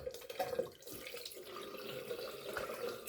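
Room-temperature water runs from a tap into a sink while someone prepares a wet shave lather, a continuous, even splashing flow that stays fairly quiet and steady without pause.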